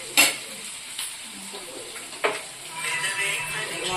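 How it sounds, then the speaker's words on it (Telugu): Prawns with tomatoes and green chillies frying in a pan after fenugreek powder is added, a steady sizzle broken by a few sharp scrapes of a spoon stirring against the pan, with no voices. "మెంతుల పొడి వేసి వేగింది"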